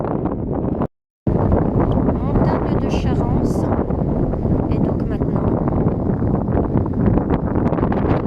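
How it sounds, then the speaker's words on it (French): Strong wind buffets the microphone on a mountain summit at an orientation table, a steady roaring rumble that runs throughout under someone speaking French. "ça caille, il y a du vent"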